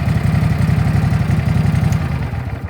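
A petrol-engined lawn aerator runs close by at a steady, throbbing rev with a regular mechanical pulse and rattling clatter, holding loud and even before easing slightly near the end.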